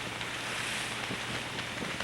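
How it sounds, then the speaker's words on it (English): Steady wind rushing over a sailboat on the water in the San Juan and Gulf Islands, a constant broadband roar with buffeting mic noise and no other clear sounds. "Wind."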